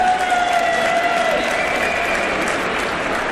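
Applause and cheering from an outdoor Día de los Museos 2019 concert crowd greet a trap, synth pop and neo soul artist, a steady dense wash of clapping held at full strength throughout.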